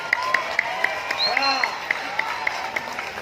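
Hands clap in a steady rhythm of sharp, evenly spaced beats through a lively Sundanese comedy show with Sule and Cepot, sitting under a continuous background of voices and chatter.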